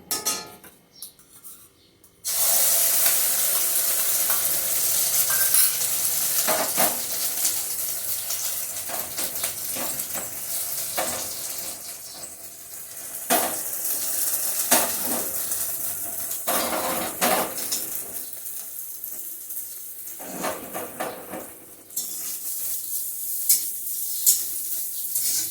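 An omelette fries in hot oil in a wok (kadai), a steady close sizzle that starts abruptly after a short quiet moment, broken now and then by clinks of a utensil against the pan.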